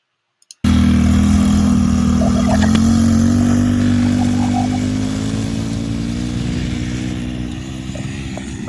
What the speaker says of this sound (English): Let me see what that Kawasaki could do.